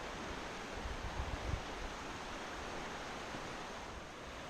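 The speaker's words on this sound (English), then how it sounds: "Beautiful along the Pipestone River though." The Pipestone River in Banff flows in a steady, dense broadband rush of water, continuous and fairly close, with no voices over it.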